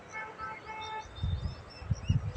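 Several short bird chirps and whistles ring out in the upper range in Victoria Park, Bhavnagar, with low rustling and bumping noises below growing louder toward the end.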